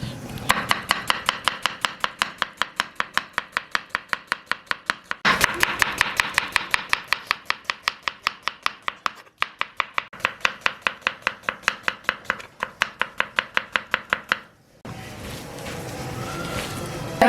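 A knife finely chops three medium onions on a board while a Pakistani wedding-style korma is being prepared: a long run of rapid, even strokes close by, broken by two brief pauses, with no talking.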